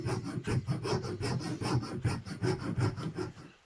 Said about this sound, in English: So I'm going to get a file.